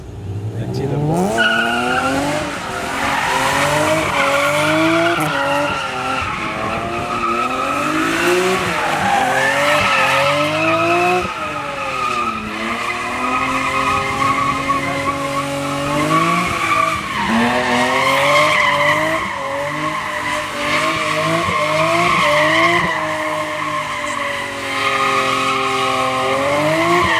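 Nick Supanic's BMW E36 M3 skids through a tunnel run, tires squealing in long sliding, wavering screeches over a loud revving engine that rises and falls nonstop.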